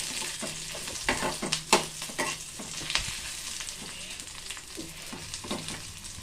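A lime-sized lump of tamarind fries in a pan of oil for a pepper and chikkudu bean curry, with a soft sizzle under repeated scraping stirs that clack and scratch at an uneven pace, close and fairly quiet.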